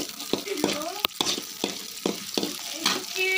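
Tomatoes sautéing in hot oil in a pan for chutney, a steady crackling sizzle broken by repeated sharp stirring scrapes and taps about every third of a second, close and fairly loud with no talk.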